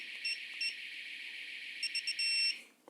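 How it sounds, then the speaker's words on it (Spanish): An electronic alarm sounds continuously at a high pitch, with a few brief beeping pulses layered on top, before cutting off near the end. "Está sonando la alarma."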